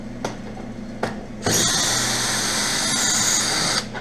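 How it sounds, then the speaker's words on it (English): A couple of sharp clicks, then a power drill whirs steadily and loudly for a few seconds up close, removing screws from an infrared quartz space heater, before stopping. "using a drill actually speeds up the process a lot better."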